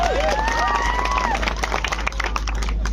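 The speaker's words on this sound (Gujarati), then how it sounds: "એમના માટે પણ જોરદાર તાળીઓ બાંધો" An audience claps and cheers together at a Gujarati public talk, loud continuous applause filling the whole stretch with crowd noise and a voice rising above it near the start.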